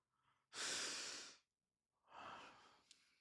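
A deep breath taken close to the microphone: a long, breathy inhale followed after a short pause by a softer exhale, quiet and alone.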